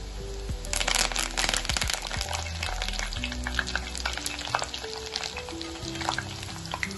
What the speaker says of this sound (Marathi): चकली एक साइड छान तळून घ्यायची आहे.